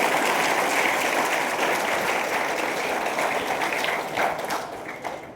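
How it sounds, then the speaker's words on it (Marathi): A student-parent gathering audience at Lokmangal College, Wadala claps loudly and steadily throughout, a dense, sustained wash of applause that thins slightly toward the end. "या सगळ्या मान्यवरांसाठी एकदा जोरदार टाळ्या"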